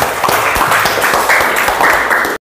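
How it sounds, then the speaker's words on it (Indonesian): Students in a classroom guidance session clap briefly for a classmate, a short burst of close, uneven handclaps that stops abruptly. "tepuk tangan dulu untuk Subhan"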